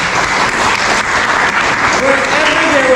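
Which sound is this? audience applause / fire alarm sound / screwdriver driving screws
audience applause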